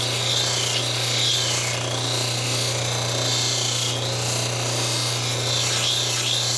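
A geode is ground against a lapidary polishing wheel, giving a continuous motor hum under a rasping, scraping grind that pulses gently as the stone is worked, close and steady.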